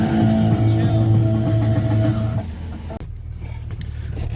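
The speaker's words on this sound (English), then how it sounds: "So Bob is driving me to go pull the money out for the Ion." Interior road noise and engine hum from a car being driven, loud and steady, with a low drone that shifts partway through as the vehicle changes speed; voices are faintly present.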